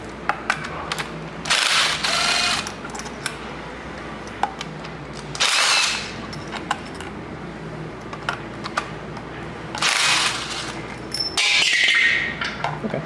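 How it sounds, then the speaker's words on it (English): Ratchet loosening the three 10 mm bolts holding the transmission filter on a 2001-2007 Toyota Highlander AWD V6; rapid clicking bursts come in four separate spells, close and crisp, with quiet handling noise between them. "What we can do now is remove the 3 10mm bolts that hold the filter to the transmission."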